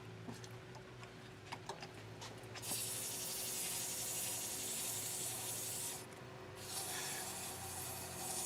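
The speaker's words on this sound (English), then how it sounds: "I am going to sand it this direction so that we know that we've got all those marks out of it." Resin cylinder pieces for a razor stand being sanded by hand, faint ticks first, then a steady loud rasping scrub that briefly pauses and resumes, close to the ear.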